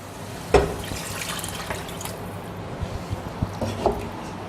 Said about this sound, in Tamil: கலந்த உடனே கொஞ்சம் நம்ம தண்ணி சேர்த்துக்கலாம்.